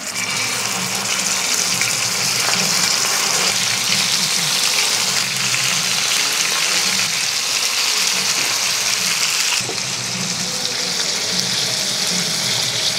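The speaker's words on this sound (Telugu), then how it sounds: "ఇప్పుడు దీంట్లో మనం ఫిష్ ఫ్రై చేసుకుందాము." Masala-coated fish pieces fry in hot oil in a pan, giving a loud, steady hissing sizzle that stays close and even, with a slight drop in intensity near the end and no talking.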